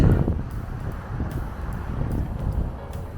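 Strong wind blowing through a park, a continuous loud rumbling buffeting against the microphone with rustling in the background, steady throughout and no talk.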